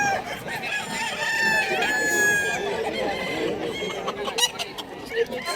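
Roosters crow and chickens cluck close by at a busy pet market in Bulacan, with honking fowl and crowd chatter mixed in around the calls.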